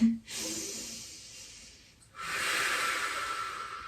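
Two long, slow breaths through the nose or mouth during a yoga stretch in a half moon pose flow, close and clear, each a soft airy rush with a brief gap between them.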